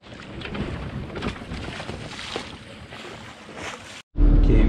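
Sailboat motoring through rough cross swell, hull pounding and water rushing over a steady engine drone, with a sudden loud thump and splash near the end.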